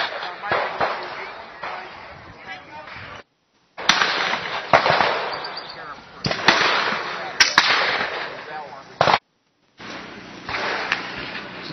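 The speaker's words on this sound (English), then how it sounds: "Here we are at the shotgun." Shotguns fire at a shooting range, with several sharp, loud reports spread across the clip among outdoor background noise, and voices in the background.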